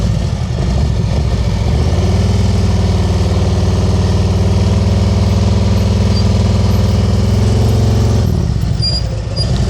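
Motorcycle engine held at high revs while riding at very slow speed during practice, a loud, close, steady drone whose pitch rises and holds for several seconds before dropping back.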